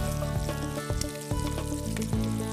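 Bacon fries in a pan with a continuous sizzle, while a few sharp clatters and a low tonal hum sit over it. No voice is heard.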